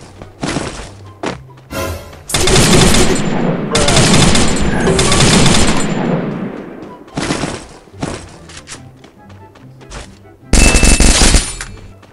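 Uzi submachine gun fire in the mobile battle royale game Free Fire: several loud, rapid automatic bursts, some long and some short, separated by brief gaps, with faint talk in between.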